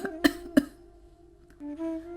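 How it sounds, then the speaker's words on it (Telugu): An impoverished elderly woman coughs twice in quick sharp bursts, close and loud, followed by a faint tonal hum. "అని దగ్గుతూ చెబుతుంది."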